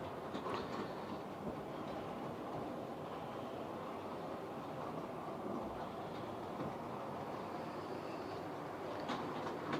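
Irish model trains run around a layout, producing a soft, continuous rolling rattle with light clicking from the track, heard close but quiet throughout.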